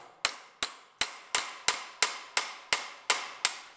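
Ten sharp, ringing hammer blows land at a steady, even pace, each strike loud and close with a short decay between hits.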